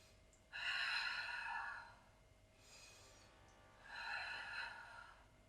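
Breathing during a Pilates plank: two audible breaths, each a long airy exhale and a softer inhale in between, close and quiet, with no talking.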